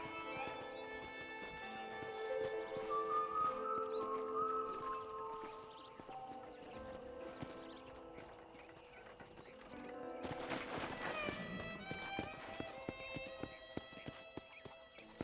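Horse hooves in the video game Red Dead Redemption, a rhythmic clip-clop that comes and goes under game music and ambient birdsong, with a horse snort and a sharper burst of hoofbeats near the end.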